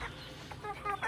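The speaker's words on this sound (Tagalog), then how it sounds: "Mga alaga natin mga manok." Farm chickens clucking softly in a short burst, a few quiet clucks at moderate distance over low background noise.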